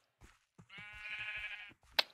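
A sheep in Minecraft on the Mineplex server gives a single bleat lasting about a second, clear and alone, with a few soft clicks of game sounds around it.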